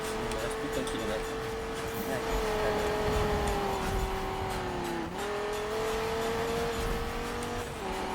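Steady racing-car engine drone from a Need for Speed race on Xbox One, holding a sustained high pitch with slight dips as the car shifts, continuous and loud throughout.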